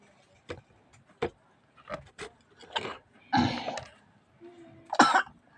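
Scattered coughs and throat-clearing bursts come at irregular intervals, some short and sharp and a couple longer and rougher, fairly close in a quiet room.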